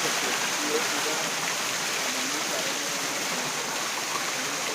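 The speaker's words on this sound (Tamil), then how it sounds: "பேம்புக்கு நடுவில் ஓட்டை போட்டு ஒரு ஹிடன் ஃபால்ஸுங்க." Water pours steadily from a hidden waterfall fed through holes in bamboo, a constant close hiss and splash with no pauses.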